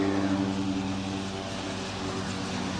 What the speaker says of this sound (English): You can hear the planes